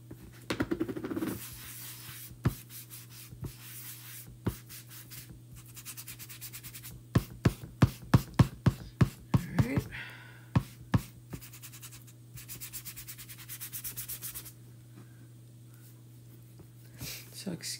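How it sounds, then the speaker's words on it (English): A small dauber rubs wax onto a chalk-painted bike in a series of soft, scratchy strokes, with rhythmic bursts of dabbing and rubbing close by over a steady low hum. "we're gonna apply a nice little layer of wax"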